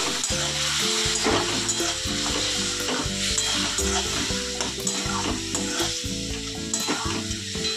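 Vegetables being stir-fried with a little water for a Bengali dal, a loud bubbling sizzle with repeated stirring scrapes against the pan, under a steady background of music.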